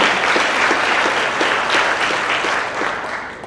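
A crowd at a monthly company celebration claps for an employee's one-year service milestone, a steady burst of applause lasting a few seconds and tapering slightly at the end.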